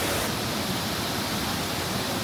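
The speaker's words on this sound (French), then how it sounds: "On a trouvé un petit chemin qui descend dans une petite cascade." A small waterfall cascade at the bottom of a little path pours with a steady, loud, unbroken rush of water on a hot day.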